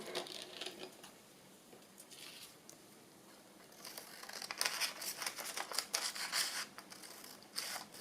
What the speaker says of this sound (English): I think the doily was for here. I'll just cut that down.